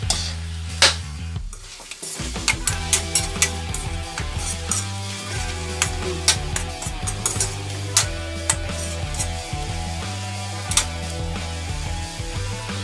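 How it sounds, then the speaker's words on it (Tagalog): Chicken and mushrooms being sautéed for a creamy dish, a close, busy clatter of utensil scrapes and pan knocks over a light sizzle, with no voices. "habang nagigisa tayo"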